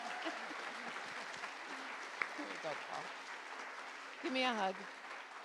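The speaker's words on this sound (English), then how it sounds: "please join me in giving a round of applause" Steady audience applause honours Dr. Paul Ross at a MESA Nationals event, continuing at an even level while voices speak briefly over it, one a little louder near the end.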